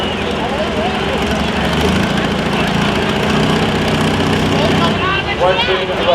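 A John Deere limited pro stock pulling tractor roars continuously at full power during a pull run, a loud, dense engine drone that holds steady and then drops off near the end, with an announcer talking over it.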